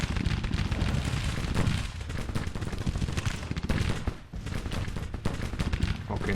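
Dense musket volleys crackle in Grand Tactician, a Civil War strategy game, as a continuous, overlapping roll of many distant shots that rises and dips slightly in loudness with no pauses.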